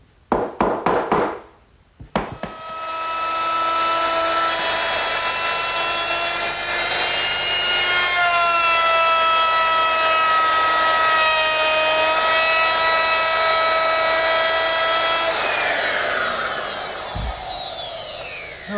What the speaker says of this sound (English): to round that over I used a 1/2-inch radius bit.